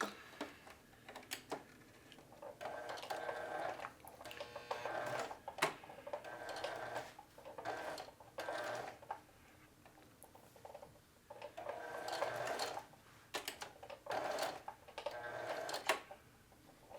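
A sewing machine stitches two denim jeans front panels together in short quiet bursts of rapid ticking, separated by brief pauses.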